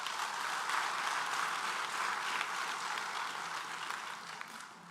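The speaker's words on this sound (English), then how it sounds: "I would like to give him a huge round of applause, please." An audience at a Bengaluru book launch for Dr. Balasubramaniam's leadership book applauds the author, a steady, moderately distant wash of many hands clapping that slowly tapers toward the end.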